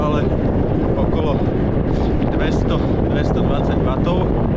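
A strong headwind buffets the microphone while cycling on a road ride, a loud continuous roar of wind noise with a voice faintly heard under it.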